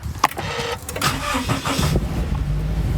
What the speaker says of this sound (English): I'm going to try and start the engine and see if this works